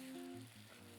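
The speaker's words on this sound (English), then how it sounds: "Hear that? That's a perfect sizzle." Eggs sizzle in a properly heated, oiled non-stick pan, a soft steady frying hiss with faint crackle, heard alone and fairly quiet.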